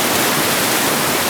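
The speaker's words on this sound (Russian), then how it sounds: "А вот здесь яма, куда падает водопад, просто сумасшедшая." A waterfall pours into a deep pool, a loud, dense, unbroken roar of rushing water heard close up with nothing else audible.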